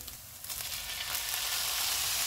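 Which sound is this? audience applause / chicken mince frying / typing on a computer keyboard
chicken mince frying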